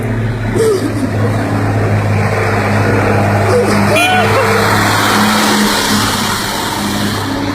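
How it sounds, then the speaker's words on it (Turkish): A truck pulls up outside a school on Disability Day, its engine drone loud and steady throughout while excited adults talk over it. "Bak geliyor kamyon."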